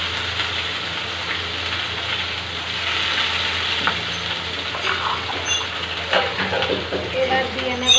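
Two to four cloves of crushed garlic and a small onion frying in a pan give a steady, dense sizzle that runs throughout, with faint stirring clatter toward the end.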